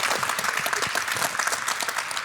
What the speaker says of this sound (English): Now let's clap for Raven.